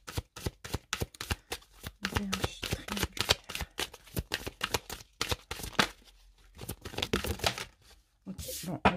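Tarot cards are shuffled rapidly and continuously, close up, with dense papery flicks and riffles that keep going for several seconds, briefly pausing before picking up again.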